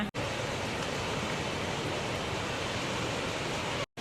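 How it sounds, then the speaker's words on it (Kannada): Sathodi Falls near Yellapur in Uttara Kannada roars as a steady, dense wash of water noise. It is loud and unbroken for the full few seconds, with no voices. "ಫಾಲ್ಸ್ ಹತ್ರ ಬಂದ್ವಿ ಶಬ್ದ ಕೇಳ್ತಾ ಇದೆ"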